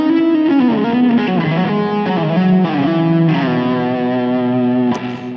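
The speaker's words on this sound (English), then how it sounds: "now we've got this end cool legato phrase which sounds like this" A distorted electric guitar plays a flowing legato phrase from a song, its smooth slurred notes sustained and up front before being cut off near the end, with no speaking.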